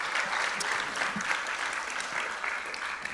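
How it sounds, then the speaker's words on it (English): A crowd at a Trans Pride awards event in Washington DC applauds steadily, a dense, even wash of clapping from many hands throughout, with a few faint whoops. "let's give yourself another round of applause"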